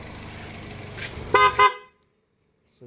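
A PIAA car horn sounds in two short, loud blasts close by, cut off abruptly and followed by silence.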